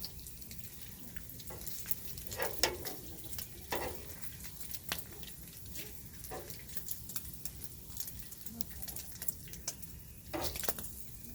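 Bacon sizzling on an outdoor griddle at a state park campsite, a soft steady crackle and spatter with occasional louder pops and scraping clicks, fairly quiet and close, with no talking.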